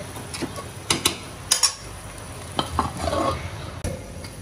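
Small fish curry with tomatoes is stirred in a frying pan, with irregular scraping and clacking strokes over a soft, steady sizzle close by.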